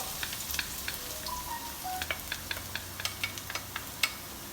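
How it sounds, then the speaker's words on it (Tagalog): Garlic sautés in a pan for pork binagoongan, a soft, steady sizzle with scattered faint pops and light stirring clicks, close by with no talk. "Susunod, magigisa na tayo. Lalagay na natin yung ating bawang."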